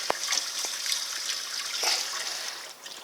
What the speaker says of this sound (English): I got here some lukewarm water.